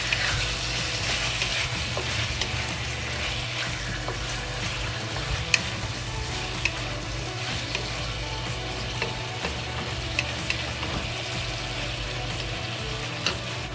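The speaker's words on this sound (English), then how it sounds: "on the medium flame, slowly fry to make the fat in the pulp come out" Pork belly fries slowly in a pan over a medium flame as its fat renders out, giving a steady, close sizzle and crackle with scattered small pops throughout.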